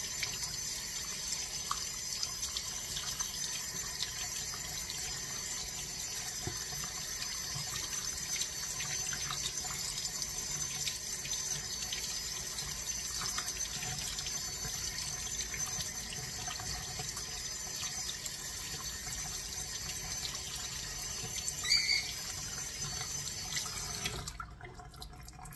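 Tap water runs steadily over fresh cottage cheese curds being rinsed of vinegar, a constant close splashing stream that cuts off abruptly near the end.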